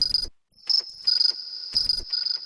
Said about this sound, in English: we get sort of a cricket sound here from the microwave beep